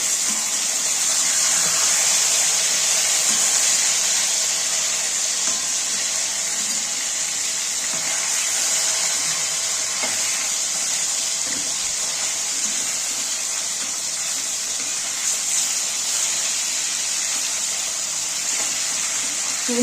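Flipped pieces of katla fish frying in oil, a continuous close sizzle and hiss running steadily for about twenty seconds with occasional small crackles and no speech.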